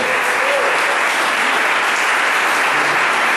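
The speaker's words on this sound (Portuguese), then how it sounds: "Vamos aplaudir o Deus Todo-Poderoso." A church congregation applauds loudly and continuously, a dense, even wash of clapping from many hands throughout.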